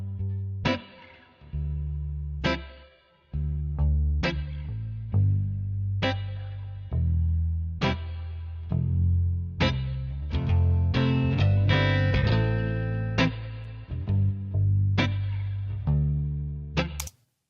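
An electric guitar with built-in reverb, recorded from the amplifier, plays plucked notes and chords one after another, each ringing out with a reverberant tail.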